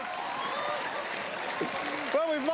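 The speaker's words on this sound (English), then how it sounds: "How about a round of applause for our boys?" Studio audience applause on a game show, a steady wash of clapping under a host's voice that rises toward the end.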